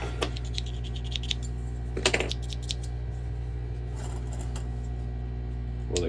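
A cheap tool bought from Temu makes small, close clicks and snips as it cuts, a few sharp bursts scattered over a quiet, steady hum, with no one talking.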